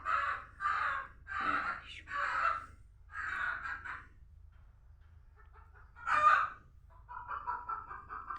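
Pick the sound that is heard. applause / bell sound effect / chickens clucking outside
chickens clucking outside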